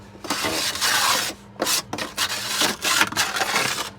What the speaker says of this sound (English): That's a lot of grind.